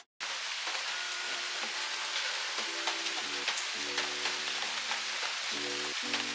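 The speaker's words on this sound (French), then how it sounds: "J'adore quand il pleut." Steady rain pours down outdoors, a dense, even hiss of drops hitting surfaces that carries on without a break, with faint hums and tones from somewhere nearby drifting under it.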